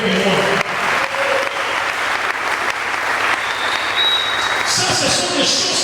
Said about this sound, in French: est-ce que tu peux acclamer avec moi?